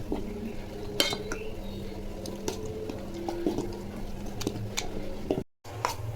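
Utensils scrape and clink against a bowl as thick batter for plantain bajji is stirred, steady and close, with occasional sharper taps and a brief dropout near the end.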